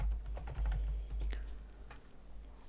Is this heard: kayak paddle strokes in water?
no